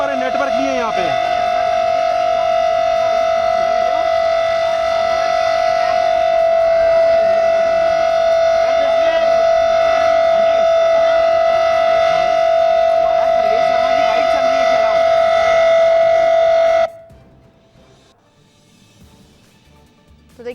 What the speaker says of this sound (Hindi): तो देखिए दिल्ली में रेड सायरन की जो है वो टेस्टिंग की जा रही है और सायरन की आवाज सीधे तौर पर सुनी जा सकती है।